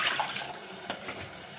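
Water pours steadily into a pan in a continuous splashing stream, close by, with no talking.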